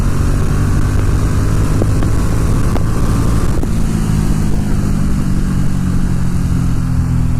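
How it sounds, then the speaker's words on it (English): A Ducati Monster S2R 800 motorcycle climbing a hill gives a steady, loud engine drone with a low rumbling tone and brief shift transients, heard from the riding position with wind noise. "I'm going to downshift, get some of that power in here."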